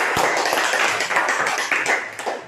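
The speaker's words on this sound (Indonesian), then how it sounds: "Kita berikan tepuk tangan untuk Vanessa." Children in a classroom clap for a classmate, a busy patter of many small hands filling the whole moment, fairly close and steady without talk.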